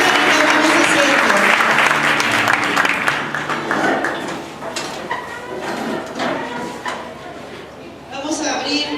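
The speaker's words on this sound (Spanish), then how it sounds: "Dale un aplauso a esta declaración" A church congregation applauds, starting loud and full, then thinning into scattered, uneven claps with murmuring voices mixed in.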